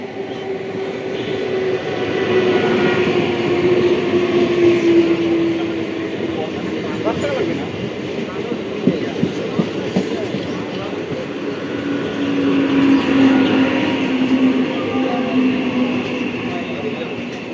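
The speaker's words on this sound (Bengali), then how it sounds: "এটা হচ্ছে Lalgola Sealdah galloping MEMU passenger, galloping train. 2 নম্বর দিয়েই যাচ্ছে" A Lalgola–Sealdah MEMU passenger train runs through Palta station on platform 2 without stopping. Its close, loud, steady rumble builds and holds for the whole stretch, with a low droning tone and rattling wheel beats in the middle.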